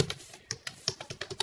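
Quick clicks of a computer keyboard as a file name is typed, a dozen or so crisp, close keystrokes in an uneven rhythm.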